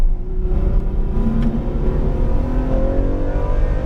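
Ferrari F12 Berlinetta engine pulling smoothly on throttle, a loud steady rising whine and rumble heard from inside the car, with no talk.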